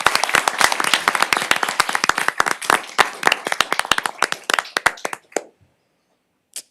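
Applause at a city council meeting for a volunteer committee: a small group clapping close by with sharp, distinct claps, thinning out and stopping near the end, followed by a last stray clap.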